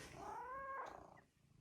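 A house cat gives one drawn-out, rising meow, clear and close in an otherwise quiet room, trailing off into faint breathing noise.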